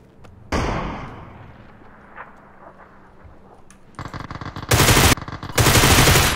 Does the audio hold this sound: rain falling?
no